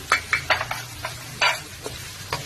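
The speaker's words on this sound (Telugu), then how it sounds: "ఇప్పుడు సన్నగా కట్ చేసుకున్న 2 ఎండుమిర్చి వేసేస్తాము." Two finely chopped dried red chillies tossed into hot oil for a restaurant-style cabbage carrot fry, giving a constant sizzle broken by several sharp stirring scrapes and crackles, close and loud.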